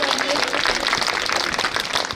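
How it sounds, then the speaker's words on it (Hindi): A school audience applauds a student dance at a Republic Day event, loud continuous clapping from many people throughout the short stretch. "तो एक बार फिर और से जोर से तालियां बजाओ"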